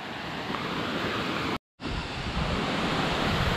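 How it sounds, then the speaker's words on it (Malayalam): Kuskem waterfall in the forest of South Goa, running low, makes a dense, steady roar of falling water close by, broken by one brief silent gap partway through. "so this is കുസ്കെ waterfalls"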